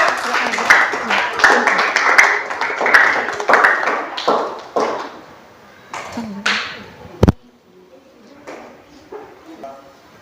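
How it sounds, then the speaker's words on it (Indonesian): Classroom applause for a student group after their presentation, a burst of clapping from a room of students that fades out over several seconds, followed by quieter taps and light room noise. "Kita berikan tepuk tangan untuk kelompok kinestetik. Kita berikan aplaus dulu."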